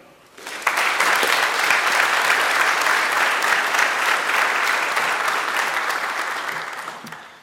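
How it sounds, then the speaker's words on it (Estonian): Sustained audience applause fills a graduation ceremony hall, starting abruptly, holding steady and loud for several seconds, then tapering slightly at the end. "Nii et aplaus ka teile."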